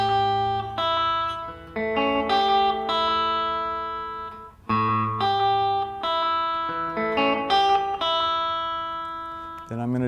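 A rockabilly lick on electric guitar rings out as clear plucked notes and sustained double stops in a bouncing pattern, close and fairly loud with no talking.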